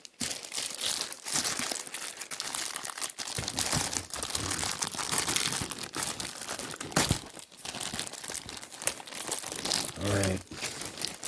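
A plastic bag wrapped around Alterna comic books crinkles and rustles continuously as a sturdy cardboard shipping box is unpacked, loud and close, with a brief spoken word near the end.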